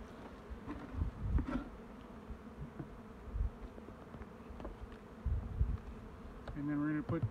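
Honey bees buzz steadily around an opened hive on an early-spring inspection, with a few brief louder passes close by and a low hum running throughout.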